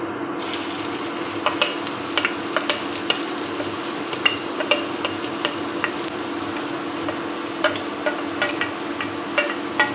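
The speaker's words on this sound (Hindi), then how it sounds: "ये तेल गरम हो गया है। अब इसमें हम डालेंगे प्याज, लहसुन, हरी मिर्च" Onion, garlic and green chili frying in hot oil for paneer bhurji, a steady close sizzle with scattered crackles and stirring clinks, no speech.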